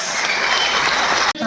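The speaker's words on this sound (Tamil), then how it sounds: "நல்ல பலமா ஒரு தடவை கைத்தட்டி பார்க்கலாமா?" Audience applause fills a large hall at a business conclave in Coimbatore, loud, dense and sustained, then breaks off abruptly near the end before a voice begins.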